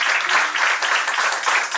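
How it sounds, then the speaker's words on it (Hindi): A panel audience at a stakeholder conversation from Haryana and Punjab breaks into brief, dense hand clapping, loud and close, lasting under two seconds. "एक बार ताली और हम बजा देते हैं आपके लिए"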